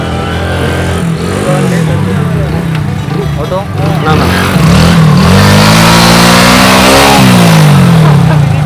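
Motorbike engines rev loudly and rise in pitch up close, with voices talking underneath the roaring motor noise, at a tourist spot.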